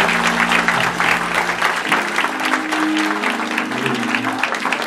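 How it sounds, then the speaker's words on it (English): A congregation standing at a Sunday church service claps hands together in steady, loud, continuous applause, with sustained musical tones from instruments playing underneath. "can you come to your feet and just give God a hand clap?"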